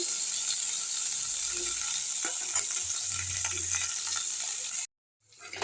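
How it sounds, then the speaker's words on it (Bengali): Steady sizzling and crackling of onion stalks frying in a pan until reddish, with faint stirring scrapes, cutting off abruptly near the end. "পেঁয়াজ কলাগুলোকে একটু লাল করে ভাজবো।"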